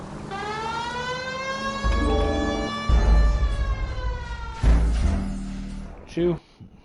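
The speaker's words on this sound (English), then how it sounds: "Easiest way to get noticed is flip your siren on" A police car siren in the video game LA Noire wails with rising and falling tones, loud and close, joined by low engine rumble and thuds.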